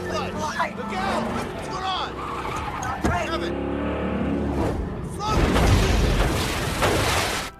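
A car speeding with its brakes and clutch failed, then skidding, in a film scene: a steady roaring engine under music and voices, a sharp impact thump near three seconds and a louder rushing surge toward the end.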